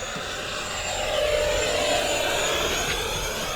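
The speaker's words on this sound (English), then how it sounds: "That's a beautiful jet." A large RC F-16 Thunderbirds model jet with a 70mm electric ducted fan flies past, a steady high whine and rushing roar that swells slightly mid-pass, heard from the ground with no talk.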